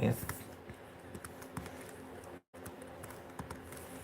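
Keyboard typing in a quiet indoor room, a steady run of light, irregular key clicks close by, with a brief gap of near silence in the middle.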